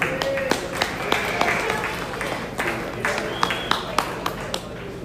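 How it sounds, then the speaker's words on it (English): An audience claps for a young exhibitor at a market lamb show, with sharp individual claps scattered through a steady crowd patter while a voice talks over it. "Let's give him a round of applause."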